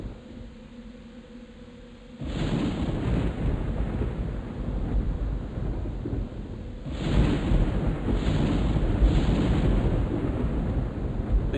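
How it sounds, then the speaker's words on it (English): A thunderstorm in the online game EverQuest, heard as steady wind-like rain hiss that surges louder partway through, with a deep rumbling roll underneath and no talk. "least we have a nice thunderstorm to listen to."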